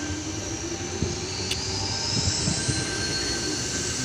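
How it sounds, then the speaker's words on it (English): A Sydney D set electric train departs Redfern platform 4 on a Penrith service, its steady rumble and rolling wheel noise carrying at a moderate distance, with a few soft clunks, a brief high squeal and no talking. "Penrith service departing platform 4"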